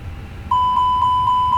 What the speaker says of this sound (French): alarme incendie de l'APU, puis celui du moteur gauche, moteur 1